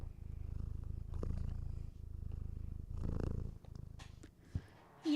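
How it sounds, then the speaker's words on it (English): A steady, close cat purr rumbling in a soft, even rhythm, with a couple of faint clicks and rustles near the end. "guys hear the purring?"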